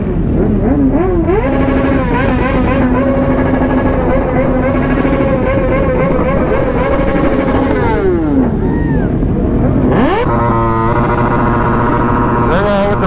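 A group of motorcycles and sportbikes riding out together, loud and close, engines droning and rising and falling in pitch as they rev and shift, continuous throughout.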